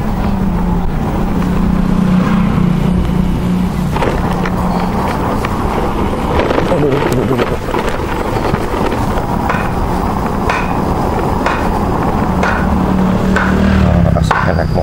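Riding an electric motorbike along village lanes, with steady wind buffeting and road rumble throughout, a continuous loud roar with occasional knocks and passing engine hum.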